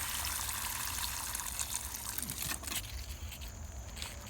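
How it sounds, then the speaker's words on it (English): Rain-barrel water splashes and trickles steadily as it is poured onto potted strawberry plants, a close, continuous pattering that shifts slightly near the end. "Water in real good till she runs off."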